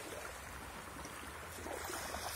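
Black Sea water at the shore near Koktebel, heard as a steady, fairly faint wash of small waves and trickling water with a light breeze, continuous with no talk.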